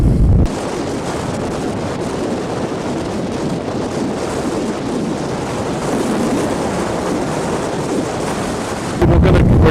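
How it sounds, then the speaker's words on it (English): Heavy wind blasts across a Zoom H1n recorder's microphone outdoors by a fort in a continuous, loud rumble for nearly the whole stretch, ending in a sudden harsher gust. "my God, this wind is awful"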